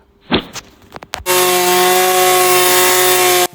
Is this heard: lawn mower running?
yes